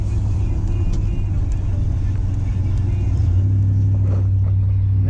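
Pickup truck with a 305 engine fitted with a small cam, running and driving with a stiff throttle: a loud, steady low rumble that deepens and steadies slightly in the second half, heard from inside at close range.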